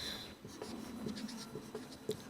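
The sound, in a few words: writing a word on a board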